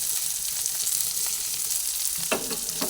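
Ginger frying in hot oil while turmeric powder is added, a steady soft sizzle close by with a brief stirring scrape near the end and no talking.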